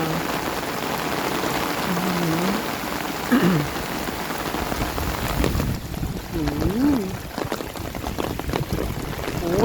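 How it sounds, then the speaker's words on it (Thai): Heavy storm rain pours down steadily with dense broadband hiss and splashing, continuous throughout, while a voice briefly talks over it. "ฝนมากมายน้ำมากมาย จริง ๆ เลย"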